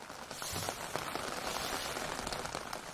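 Heavy rain pounds steadily on the tents of a refugee camp in western Idlib, a dense, loud, continuous patter and drumming with no voices.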